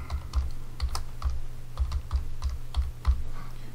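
Keys clatter on a computer keyboard in quick, uneven taps, close and clear over a low steady hum, with no voice over the typing.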